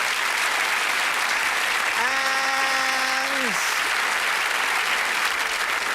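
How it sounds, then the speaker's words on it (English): A television studio audience applauds continuously in a dense, steady roar of clapping, while a sustained tone rises and holds for about a second and a half midway through. "Give him a round of applause, please."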